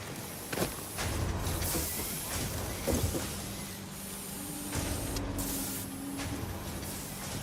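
Screw-making factory machines running in the Satisfactory video game, a dense, steady mechanical hiss with faint rhythmic clanks and a low hum underneath, continuous throughout and with no talking.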